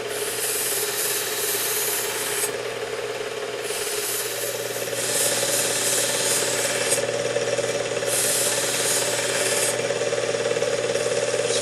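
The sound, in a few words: knife sharpened on medium grit belt of WS2000 sharpener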